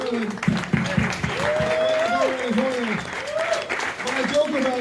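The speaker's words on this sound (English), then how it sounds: "let's give Wendy Hamilton a round of applause coming up from Maryland" Audience applause for Wendy Hamilton at a political campaign event, steady clapping running throughout while a speaker talks over it.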